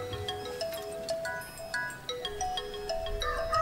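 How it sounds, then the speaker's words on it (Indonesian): Telephone ringtone signalling an incoming call, a repeating electronic melody of bright tones playing steadily at moderate volume, with no speech over it. "ada telepon"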